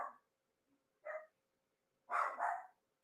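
Two or three barks from a dog indoors, a short yip followed by a closer double bark, with silence between them and no talking.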